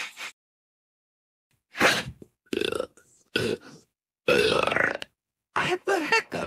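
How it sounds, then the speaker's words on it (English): Hiccup-burps after drinking root beer come as several short, loud bursts separated by silence, close to the mic, with some brief vocal sounds mixed in. "I have the hiccups."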